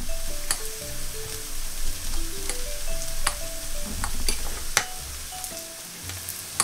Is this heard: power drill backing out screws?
no